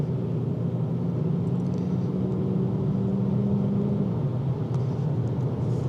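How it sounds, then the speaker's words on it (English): A 2025 Kia K4 GT-Line Turbo accelerating gently in normal drive mode, a steady low engine drone with a rising tone that drops after about four seconds, heard from inside the cabin. "So here's a more normal acceleration."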